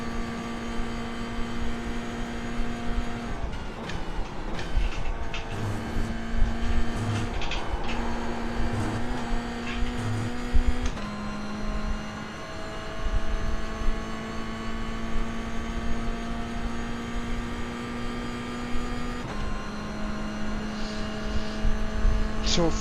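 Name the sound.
race car engine at full throttle in video game iRacing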